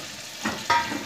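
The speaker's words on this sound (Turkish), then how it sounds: "Yine aynı şekilde kavurmaya devam ediyorum böyle." Puréed carrots and other vegetables are stirred in a pan while they sauté for a Balkan lutenitsa sauce. There is a steady soft sizzle with two louder scraping stirs, close up.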